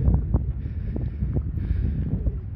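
Wind buffets the microphone in low, rumbling gusts, steady and close throughout the short stretch.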